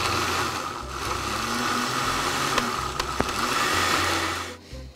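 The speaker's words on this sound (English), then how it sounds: "Helps to have a decent blender." A blender whirs steadily for about five seconds, blending baba ghanoush of eggplant with a splash of olive oil, a loud, continuous motor drone with slight shifts in pitch before it cuts off near the end.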